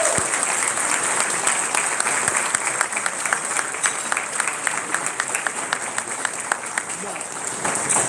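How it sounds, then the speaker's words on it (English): Sustained applause from a gala audience fills the room at a steady level, dense clapping continuing throughout without a break. "let's give these people a round of applause"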